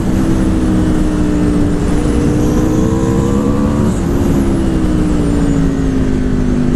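A sport motorcycle engine, an Aprilia RSV4 or Tuono 1100, pulls hard nearby in third gear, its pitch climbing steadily with a brief dip mid-way as it shifts, accompanied by heavy wind noise.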